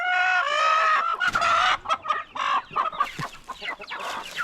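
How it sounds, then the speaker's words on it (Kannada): Fighting-breed game chickens cluck and squawk loudly and close by, overlapping calls in an excited, busy chorus with no talking. "ಇದೆಲ್ಲ ಅಂಕದ ಕೋಳಿ, ಫೈಟರ್ ಅಂತಲೇ ಹೇಳ್ಬೋದು"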